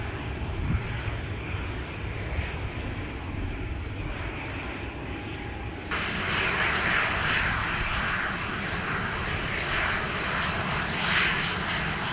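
An airliner's engines roar during a takeoff run at Sangster International Airport in Montego Bay, Jamaica, loud and continuous, swelling abruptly halfway through as thrust increases, with no voices.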